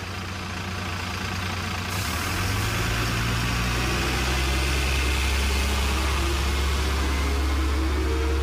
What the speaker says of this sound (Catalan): Pugeu ràpid al vostre autobús que se'n va.